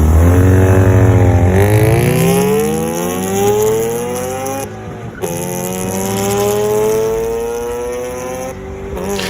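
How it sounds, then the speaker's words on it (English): A rotary-engine car's exhaust revs loudly up and down through several rising and falling sweeps, close and raspy, with no talking. "obviously the rotary sounds dope."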